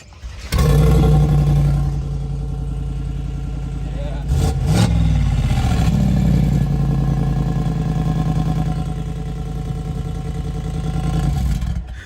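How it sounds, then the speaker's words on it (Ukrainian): A Mercedes G63 with an Akrapovič exhaust fires up with a loud burst, then settles into a steady, deep idle, with a brief rev flaring partway through, all close by. "Зараз я його заведу, і ви почуєте, як воно звучить."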